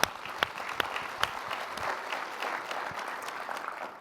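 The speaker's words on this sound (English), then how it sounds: "Give yourselves a round of applause" Conference attendees at a community-finance event break into applause, sustained clapping from a sizeable crowd with a few sharper nearby claps standing out early on.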